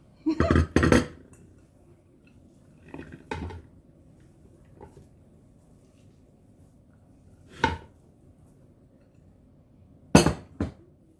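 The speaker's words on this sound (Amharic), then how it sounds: "ኡታን እዚህ ላይ ልገልብጣው" Uta flatbread is handled in a pan in a quiet kitchen, giving a few sharp clattering knocks and scrapes of the bread and utensils against the pan, spaced apart with silence in between.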